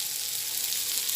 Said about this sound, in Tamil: சவ் சவ் வதக்கிறேன்.